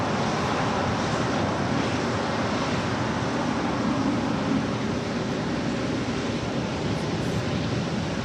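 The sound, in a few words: United Airlines Boeing 787-10 Dreamliner rolling down runway 25 right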